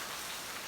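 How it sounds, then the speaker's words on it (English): Steady rain falling on a veranda, a dense even hiss of drops close by with no pauses. "now the rains have come, as you can see"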